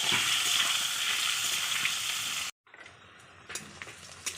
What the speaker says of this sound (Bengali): এই যে আলুটা আমি লবণ হলুদ দিয়ে ভেজে নিচ্ছি